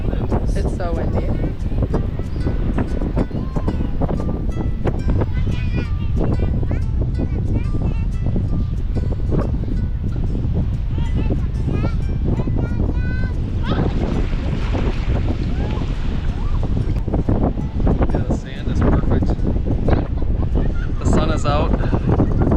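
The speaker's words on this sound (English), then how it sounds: "It's so windy." Strong wind buffets the microphone on a beach in Madagascar, a loud continuous roar with surf mixed in that runs throughout, while people talk beneath it.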